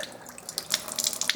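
Alkaline water at pH 9.5 streams from the top hose of a Kangen water ionizer into a sink, a close, splashing flow with bright spattering bursts.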